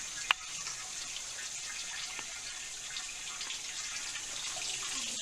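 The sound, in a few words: garden irrigation water flowing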